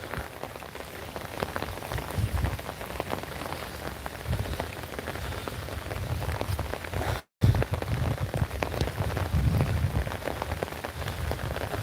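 Steady rain pours down, with dense pattering of drops on surfaces and a constant hiss throughout, briefly cut off once before resuming at the same strength.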